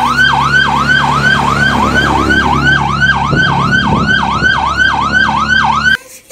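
A police car siren in the Roblox game Brookhaven wails loud and close in a fast, repeating rising-and-falling cycle, running continuously before cutting off abruptly near the end.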